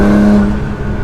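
R35 Nissan GT-R on stock throttle tuning, a loud close engine note with a steady tone that eases off as it accelerates, heard alone for a short burst.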